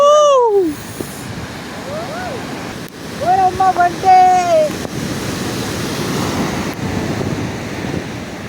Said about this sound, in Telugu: సూపర్, అలలు అయితే మరీ గట్టిగా వచ్చేస్తున్నాయి.